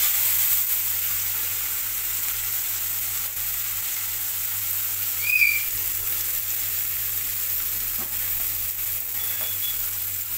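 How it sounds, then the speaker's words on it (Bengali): Onions sizzle in a wok after fish has been fried in it, a steady hissing fry that holds at an even level throughout, close and continuous with no talking. "এবার সেই কড়াইতে আমি দিয়ে দিচ্ছি পেঁয়াজগুলো।"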